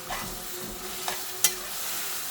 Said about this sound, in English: I'm just going to stir everything together, combine everything